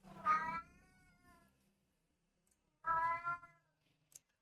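A cat meows twice up close, each a drawn-out, strained wail separated by a second of silence, with a tiny click at the end.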